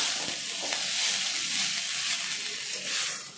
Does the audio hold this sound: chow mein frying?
yes